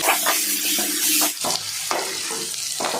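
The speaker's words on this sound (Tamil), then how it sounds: "நாம் சேர்த்துக்கிட்ட கருவேப்பிலை இலைகளை வெங்காயத்தை கூட சேர்த்து நல்லா வதக்கிடலாம்" Steady sizzling and crackling of onions and curry leaves sautéing in a hot pan, with brief scraping stirs interrupting the frying noise, close up and fairly loud.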